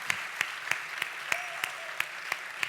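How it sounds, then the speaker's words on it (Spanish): Audience applause at a live comedy show: a steady wash of clapping from a crowd, with sharp, evenly spaced individual claps standing out over roughly three seconds, no talking. "Un aplauso, por favor, para toda la gente de La Navaja."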